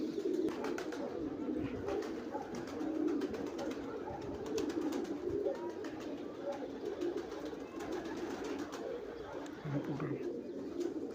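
A pair of Teddy pigeons coo continuously at close range, soft rolling low calls repeating without pause, with a faint bright chirp or two above them.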